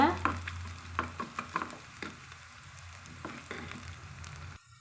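A tempering fries in a pan until golden for chutney, giving a soft continuous sizzle with light stirring taps and scrapes near the start, fairly quiet and without talk.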